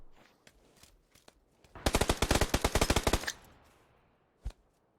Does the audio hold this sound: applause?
no